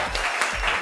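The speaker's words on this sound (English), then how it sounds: "Please put a round of applause." An audience at a start-up foundation event applauds with dense, continuous clapping throughout this short burst.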